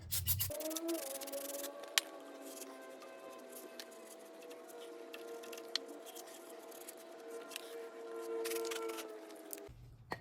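Rags wiping a brake backing plate on a 1986-1997 Ford F250 drum brake with brake parts cleaner, a faint, steady soft rubbing with light scuffs and occasional ticks, close and quiet, no talking.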